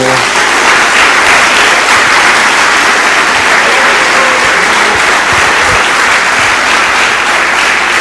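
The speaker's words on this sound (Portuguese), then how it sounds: "Dê uma salva de palmas ao Senhor." Church congregation breaks into loud, dense, sustained applause that fills the room evenly from start to end, with no talking over it.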